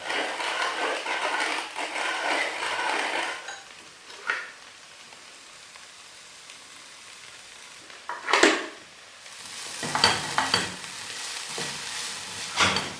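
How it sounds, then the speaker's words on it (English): Potatoes and onions fry in a pan, a bright sizzle loud at first then fading to a low hiss, with a few sharp scrapes and clatters as the pan is stirred. "Now while all the stuff inside the pan is frying"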